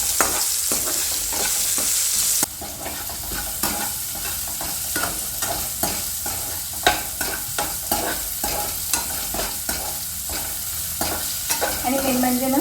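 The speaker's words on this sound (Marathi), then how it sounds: "आता लसूण परतून घ्यायचं." Garlic sautéing in a pan of hot oil with cumin, chili powder and salt, a continuous loud sizzle with regular scraping strokes of a spoon stirring it.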